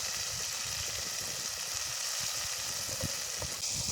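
Tomato and onion sautéing in a pan over a wood fire, a steady close hiss of sizzling with faint crackle and a few soft knocks, no talking.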